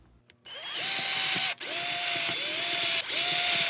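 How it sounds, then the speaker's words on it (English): An electric drill whirs into wood in four steady bursts, each spinning up to a high whine and briefly dropping off between runs, close and loud. "Drill on the marks."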